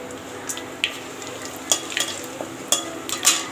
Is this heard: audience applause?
no